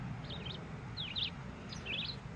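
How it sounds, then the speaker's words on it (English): Red-eyed vireo call played from a Wild Republic Woodland Birds Series 2 plush toy bird: three short, clear warbling phrases in quick succession over a low background hum, fairly quiet and tinny, with no talking. "Here's the red-eyed vireo"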